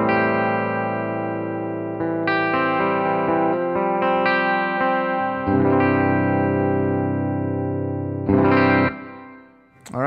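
An electric guitar played through a Two-Rock amplifier with chorus-like shimmer and mild drive, ringing chords and sustained notes, ending with a brighter strum that fades.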